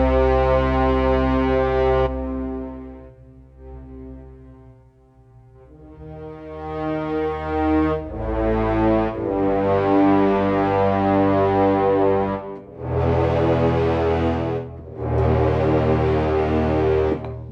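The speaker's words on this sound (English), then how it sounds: "Low strings and horns." Low strings and horns from a Bernard Herrmann-style orchestral sample library swell in deep, sustained brassy chords, rising and falling in long, loud held phrases.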